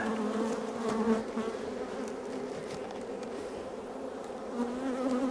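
Honeybees at an open, crowded hive fill the air with a dense, continuous buzzing, close and steady, with no voices.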